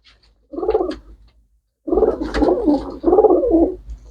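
A pigeon coos close by in three distinct bursts, a short phrase first, then after a pause two longer rolling coos in quick succession, clear against near silence.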